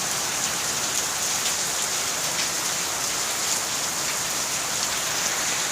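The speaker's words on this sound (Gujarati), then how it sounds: "વરસાદ ફૂલ ચાલુ થઈ ગયો છે" Heavy monsoon rain pours down in a dense, continuous hiss, loud and close and unbroken for the whole stretch, with no voices over it.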